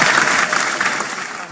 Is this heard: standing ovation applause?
yes